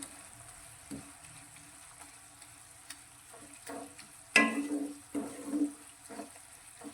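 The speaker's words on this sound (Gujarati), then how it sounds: "સારી રીતે મિક્સ કરી અને આપણે લસણને પણ ટામેટા ડુંગળીની સાથે સારી રીતે સાંતળીશું" Garlic sautéing with tomato and onion in a pan, a soft background sizzle with occasional spoon scrapes and stirring clatter that gets louder toward the end.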